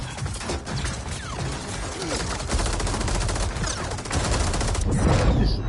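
Gunfire in the Mortal Kombat fighting game, rapid assault-rifle bursts and fusillades, loud and close, rattling in quick rhythmic volleys with a few mechanical clicks.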